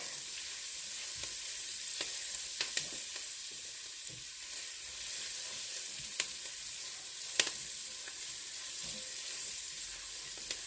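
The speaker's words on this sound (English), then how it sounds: "And to that onion, I'm going to add 2 cloves of garlic." Onion and garlic sizzle steadily in a pan, a continuous soft crackling hiss with occasional sharper pops and stirring clicks, close and alone without speech.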